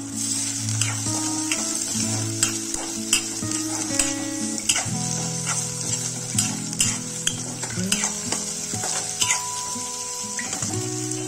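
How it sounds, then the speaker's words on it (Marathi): Green chili, tomato and peanuts fry with spices in a pan for poha, with a steady close sizzle and repeated scraping clinks of a spoon stirring throughout. "आता आपण यामध्ये हिरवी मिरची, टोमॅटो आणि शेंगदाणे हे सर्व टाकून चांगल्या प्रकारे परतून घेऊ।"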